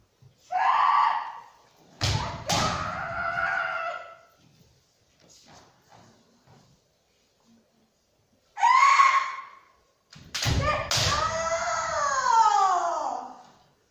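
Sharp shouts and loud bamboo shinai strikes in a kendo kote-do double technique, two bursts: a yell, two quick cracking hits with stamping, then a pause and another shout with two more fast strikes.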